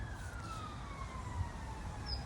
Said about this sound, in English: police siren to finish before I start.